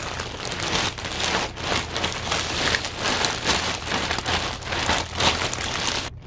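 A plastic shipping package from a clothing order is torn open and handled, giving loud, continuous crinkling and rustling close by for several seconds.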